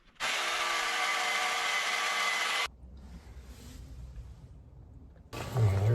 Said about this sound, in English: I'm gonna try to drill that like that.